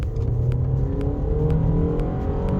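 A 2017 Ford Fusion with a 1.5-litre EcoBoost engine and automatic gearbox accelerating from a standstill uphill, heard from inside as a steady, loud engine drone with rising whine.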